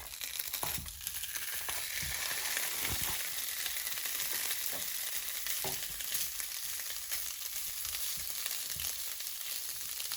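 Maple sausage links frying in a dry pan with no oil or butter, a dense, constant sizzle with a few faint knocks and shifts near the start.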